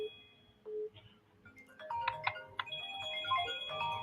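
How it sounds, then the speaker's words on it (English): Phone ringtone chiming with a repeating melodic pattern over a call-in radio show, steady and fairly loud throughout, beginning after a brief low tone. "Darlington, if it is your phone that ringing, you got to mute while you're not on because it's interfering"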